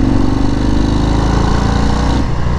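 A 2019 Harley-Davidson FXDR motorcycle with the 114 engine, ridden in third gear, gives a loud, steady, close-up engine drone with a throbbing rumble that dips briefly near the end.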